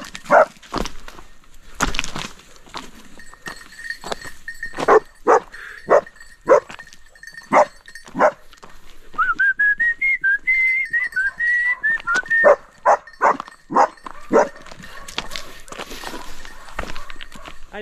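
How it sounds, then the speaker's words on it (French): Hunting dogs bark in short, sharp bursts around a cabin in the woods, repeated irregularly over many seconds at varying distances, with a rising whine or whistle-like whimper in the middle. "Depuis tout à l'heure il y a les chiens qui me tournent autour"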